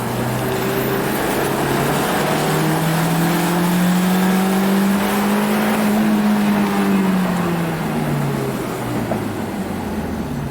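A Honda S2000 engine revving hard into VTEC while driving after brake caliper work, a steady engine drone climbing to a high, rising pitch, holding, then falling away, loud and close with no talking.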